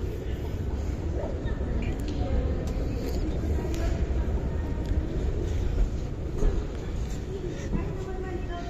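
Steady low rumble of a Riyadh Metro train running on rails, continuous and fairly loud, with people talking over it.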